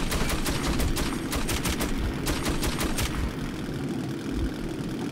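Rapid bursts of automatic gunfire from a weapon in the Metro 2033 video game, rattling loudly in several quick volleys over a constant low engine-like rumble, then stopping, leaving only the rumble.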